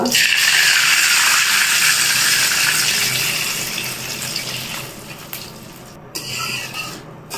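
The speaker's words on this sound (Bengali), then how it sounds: "এবার নারকেলের দুধটা দিয়ে দিব।" Coconut milk pours into a pan of egg curry as a loud, steady liquid splash that gradually fades, followed by quieter stirring and a few light clinks.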